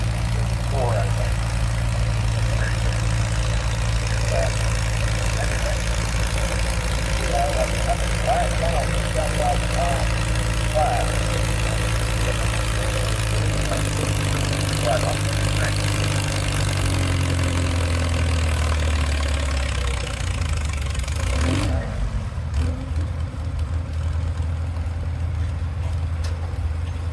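A 1954 Farmall tractor idles at an antique tractor pull with a steady, loud low rumble, its pitch shifting slightly as the engine changes load before the sound drops away abruptly near the end; people talk faintly over it.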